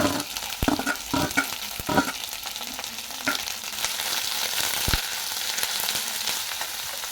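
Chopped onion and green chili sautéing in a pan for a poori potato masala: a steady hiss of frying with several scraping stirs and knocks near the start, close and moderately loud, with no speech.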